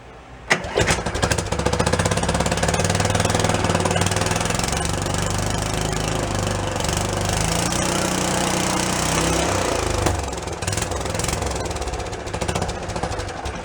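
A Beaver amphibious vehicle's new engine, started for the first time in 25 years and given a little throttle, runs with a loud, steady, rough mechanical roar and chugging low rumble that holds for most of the stretch and eases slightly near the end.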